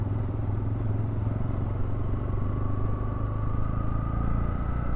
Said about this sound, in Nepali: अब थपियो 2टा बाइक, डुक अनि रोयल इनफिल्ड बुलेट।